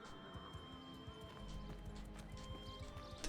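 Horse hooves gallop in a rhythmic clip-clop within a video game, steady and moderately close over a layer of ambient game noise, with no voices.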